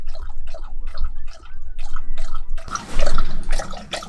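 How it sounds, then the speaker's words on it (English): Dog lapping water inside a Ford Transit campervan conversion, a quick series of wet splashy laps close by, with a louder burst of sloshing near the end. "That's Coop drinking."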